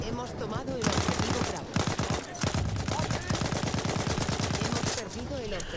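Rapid automatic gunfire in the shooter Battlefield 1, aimed at a tank, hammers out in long, steady strings of close, loud shots with only brief pauses between bursts.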